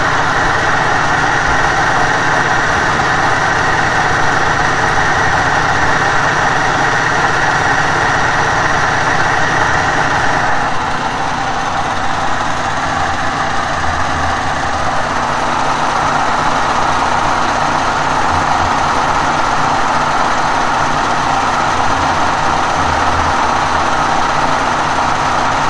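A 12000-watt, 220-volt electric generator engine runs with a loud, steady droning hum that holds throughout, shifting slightly in tone partway through.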